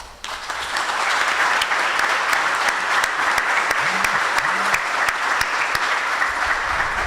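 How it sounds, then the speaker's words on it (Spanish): An auditorium audience at a restorative justice tribunal event applauds in a dense, steady wash of clapping that starts after a brief quiet moment and continues evenly, with a couple of low voice murmurs beneath. "me gustaría que para usted también fuera este aplauso que pido al auditorio"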